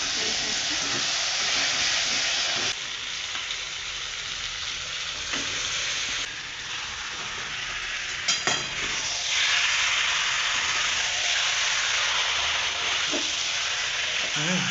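Spices and tomatoes fry in oil with a loud, continuous sizzle, broken by a few stirring scrapes and clicks, with faint talk in the background.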